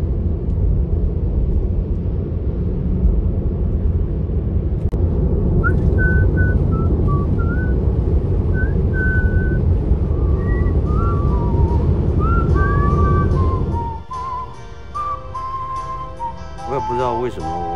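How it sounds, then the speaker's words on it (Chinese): A person whistles a melody while driving, the tune clear over a loud steady road and engine rumble inside the car. "我也不知道为什么我开着开着就吹口哨，就吹出这首歌"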